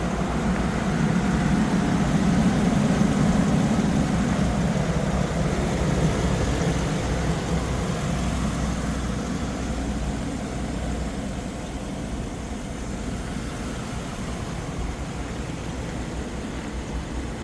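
A 2018 GMC Savana 3500 box truck engine idles steadily with a low, constant rumble, close by and unchanging for the whole stretch, no voices.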